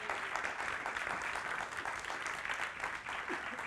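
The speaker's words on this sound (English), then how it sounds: "Can we please give our judges some encouraging applause" Audience applause for the judges at a FameLab science communication semi-final, a continuous, even wash of many hands clapping at a fair distance, with no talk over it.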